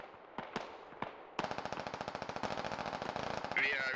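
Automatic gunfire in the tactical shooter SquadOps: a few sharp single shots, then a long rapid burst of evenly spaced reports, fairly close and loud, with faint radio-style chatter in the background.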